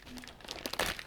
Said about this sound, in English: this plastic bag, there is nothing in it